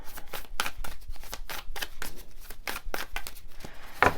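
Tarot cards are shuffled in quick, crisp riffles and flicks close by, a rapid patter of papery snaps with short pauses between bursts.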